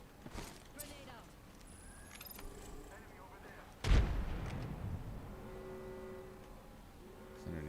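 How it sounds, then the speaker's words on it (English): A grenade explodes in a battle royale video game, one sudden loud boom partway through that rolls off into a rumbling tail, heard under game effects and a player talking. "Grenade out."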